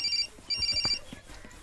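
A telephone ringtone trills in two bursts with a short gap, over faint background noise.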